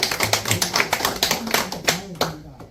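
An audience at a committee meeting and press conference claps in agreement, with loud, rapid, close handclaps in an uneven rhythm that fade toward the end, and a voice briefly speaking over them.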